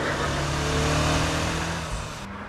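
Turbocharged engine of a 2020 Honda Civic Type R, 306 horsepower, revving hard. The rising and falling note is close and loud, steady for a couple of seconds and then eases off, with no talk over it.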